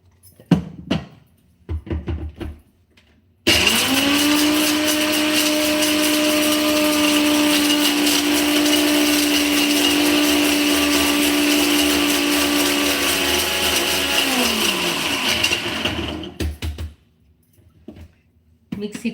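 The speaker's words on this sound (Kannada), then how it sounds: "ಈ ಮಿಕ್ಸಿ ಜಾರ್ಗೆನೆ ಈಗ ಕೊಬ್ಬರಿ ಹಾಕ್ಕೊಂಡ್ಬಿಟ್ಟು ನಾನು ಪುಡಿ ಮಾಡ್ಕೊಂಡಿದ್ದೀನಿ" A kitchen mixer grinder pulverises dry coconut (copra) in its jar for chutney powder, a loud steady whining motor hum running for about twelve seconds before winding down, with brief talk before and after.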